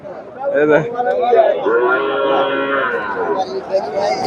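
A cow lows at a busy cattle market in Chandaikona, Bangladesh, with a crowd talking loudly over and around it throughout.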